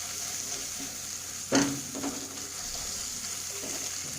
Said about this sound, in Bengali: মশলাটাকে একটু গ্যাসের ফ্লেম কমিয়ে দিয়ে কষে নেব।